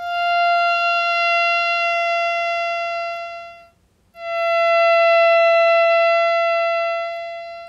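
A theremin holds one pure, steady electronic tone that fades almost to silence near the middle as a hand moves from the volume antenna, then swells back to full loudness.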